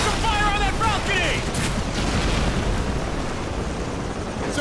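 Gunfire is aimed at a balcony in Call of Duty 4, heavy dense bursts and booms rolling continuously, loud and close, with shouted voices mixed in.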